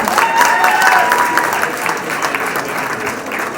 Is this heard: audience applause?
yes